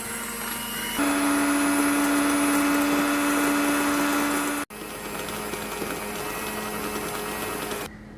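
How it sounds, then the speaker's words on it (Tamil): An electric hand mixer beats paniyaram batter for a rice sweet paniyaram, giving a loud steady motor whine that stops briefly partway through and then starts again. "ஸோ இதை நான் நல்லா 15 மினிட்ஸ் கிட்ட இதை நான் வந்து பீட் பண்ணி எடுத்துக்கிறேன்"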